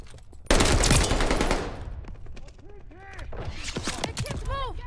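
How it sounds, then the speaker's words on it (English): Heavy machine gun fire in the video game Call of Duty Vanguard, a loud sustained burst that opens abruptly and rattles on, followed by lighter scattered shots, metallic mechanism noises and rising whistling tones. "I can't move. Fire is too heavy."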